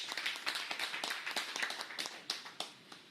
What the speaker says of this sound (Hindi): एक बार आप लोग ताली बजाइए फिर।